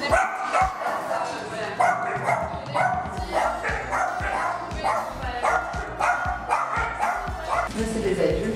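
Dogs at an animal shelter bark and yip repeatedly, a dense, fairly close chorus of overlapping barks and whimpers, with a person talking underneath.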